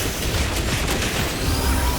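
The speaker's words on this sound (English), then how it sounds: "Turrets follow Damien's every move." Automated turrets open fire in the video game 007 First Light, a dense, continuous fusillade of gunshots lasting a couple of seconds at close range, loud and steady with no talk over it.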